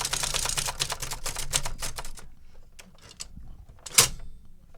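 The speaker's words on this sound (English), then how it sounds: "Oh. Carriage return works." Manual typewriter being typed on in rapid bursts of crisp clacks, then a single sharp carriage return slam near the end, close and clear with no talking.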